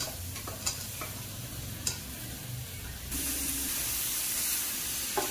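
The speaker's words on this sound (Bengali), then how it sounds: "এবার ভেজে রাখা আলু দেব।" Fried potatoes tipped into sizzling masala in a pan, soft frying hiss with a few stirring clicks, then a sudden louder, steady sizzle as the potatoes land and keep crackling.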